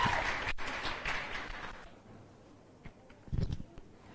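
An audience at a closing ceremony claps in a scattered burst that fades after about two seconds, then a few isolated claps and a brief small flurry follow in a fairly quiet hall.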